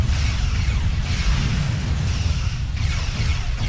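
In a Star Trek video game, a Tachyon Beam weapon fires as a dense, continuous rushing blast with periodic whooshing swells, loud and steady throughout.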